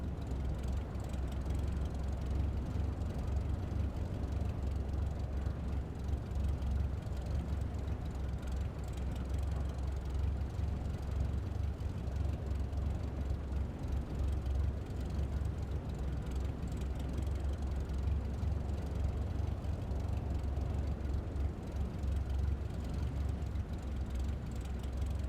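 A small aircraft taxis in Microsoft Flight Simulator 2024, a steady low engine drone with a faint mechanical rattle, holding at an even, moderate level throughout with no talking.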